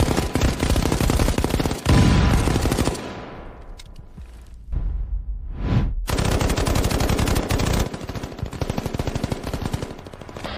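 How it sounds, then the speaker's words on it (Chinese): Heavy gunfire in an animated war drama, sustained machine-gun bursts pouring from the windows of a three-story building, loud and close, briefly giving way to a sweeping whoosh before the rapid firing resumes. "正在向我们射击"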